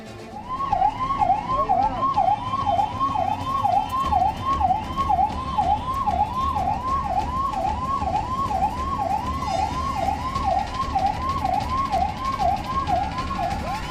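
An ambulance siren wails in a steady, rapidly repeating up-and-down cycle, loud and continuous over low traffic rumble, with no voices.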